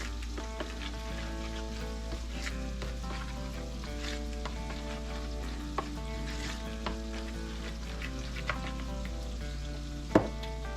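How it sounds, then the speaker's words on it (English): A spoon stirring meaty baked beans in a pot, a continuous low sizzle and bubbling with occasional scrapes and clinks, close and steady with no talk. "we're going to take a spoon and stir this up"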